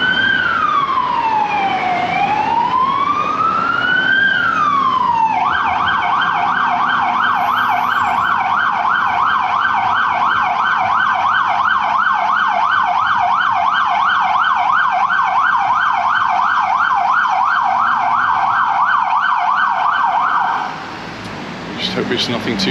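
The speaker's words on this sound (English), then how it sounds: "An ambulance coming up the road." An ambulance siren comes up a coastal road at Cala Mayor, Mallorca, first a slow wailing sweep, then a fast, loud yelping cycle that holds for about fifteen seconds before cutting off abruptly.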